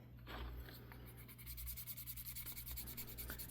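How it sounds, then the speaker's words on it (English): Rubbing and burnishing of a leather belt loop key chain produces a soft, continuous scratchy friction with a steady rhythmic back-and-forth stroking. The sound is close and quiet, set against a low hum. "Burnish it off."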